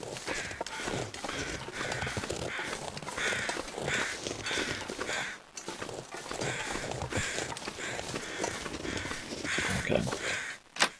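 Crows caw repeatedly in The Long Dark's wilderness, their harsh calls mixed into a busy layer of wind, crunching footsteps and movement, with a voice speaking at times.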